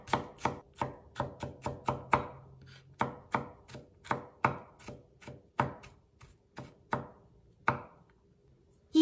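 A knife mincing a fresh garlic clove on a cutting board, with irregular sharp chops in quick bursts and short pauses, close and clear with no talking.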